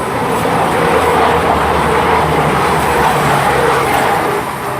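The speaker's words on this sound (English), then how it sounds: "passing through here is a cross-country service to Manchester Piccadilly." A cross-country passenger train to Manchester Piccadilly rolls through Stapleton Road station, filling the whole moment with a loud, continuous rumble and rattle of wheels and carriages close by.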